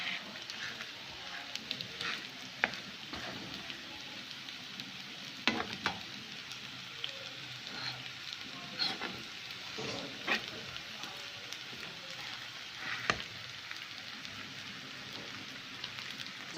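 Thick poppy seed halwa being stirred with a sturdy spoon in a pan, producing a soft, steady sizzle with occasional sharper spoon clicks, quiet and close.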